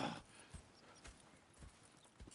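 Faint horse hooves clop softly and slowly in a steady rhythm in the video game Red Dead Redemption 2, a few muffled steps on a quiet background with no talking.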